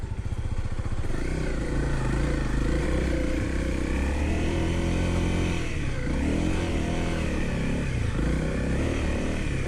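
A Honda CRF250L dirt bike climbs a steep, dusty hill, its engine held high in the revs with repeated surges and dips, loud and close, with some clatter from the ride and no speech.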